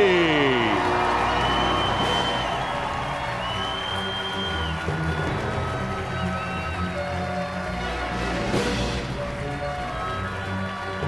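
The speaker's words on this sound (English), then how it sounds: "Ladies and gentlemen, a round of applause for Gino Cap. Spalletti." Hall of Fame induction crowd applauding and cheering with scattered whoops, a steady wash of clapping and voices filling the hall throughout.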